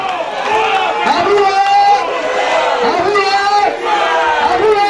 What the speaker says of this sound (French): Sur vos acclamations, mesdames et messieurs, recevez Aboué!